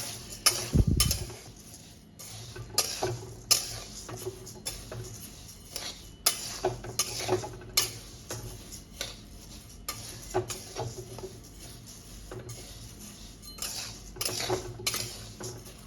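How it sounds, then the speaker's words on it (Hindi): Dry lentils (dal) scraped and stirred with a metal spoon in a pan while roasting, giving a steady run of close, sharp clinks and scrapes at an irregular beat, with one brief low thump near the start. "अब ये दाल हमारी भून चुकी है"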